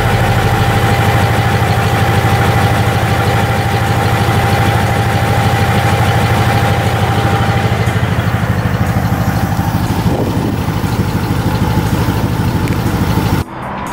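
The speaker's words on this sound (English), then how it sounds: "the third thing I hate about this car is the engine tick" A 2018 Ford Mustang GT idles steadily nearby, a continuous low engine hum with a faint mechanical tick underneath, running alone without talk until it cuts off at the very end.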